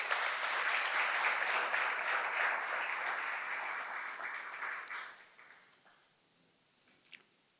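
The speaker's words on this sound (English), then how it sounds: "give our sponsors, partners, all the folks that made this happen a round of applause" An audience at a press conference in Louisa for a Country Music Highway tribute show applauds steadily, the clapping thinning and fading out toward the end, leaving near silence with a single faint tap.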